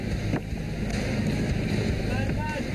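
A Royal Malaysian Navy speedboat engine drones steadily at sea over wind buffeting and water noise, loud and close throughout, while approaching a fishing boat.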